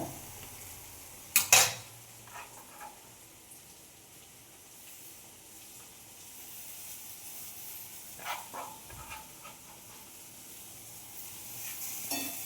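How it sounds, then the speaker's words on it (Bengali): A fried egg with coriander leaves being stirred in a wok: soft sizzling broken by a few sharp metal clanks and scrapes of the spatula against the pan. "ধইনা পাতাটা দিয়ে একটু নড়াচড়া করে দিতে হবে"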